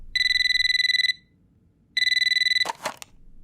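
Telephone ringing in an animated drama: two bursts of a bright electronic trill, each about a second long with a pause between, followed by a short clatter as the receiver is picked up.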